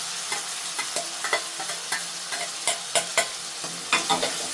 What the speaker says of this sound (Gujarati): ખૂબ હલાવી લઈશું એને આપણે.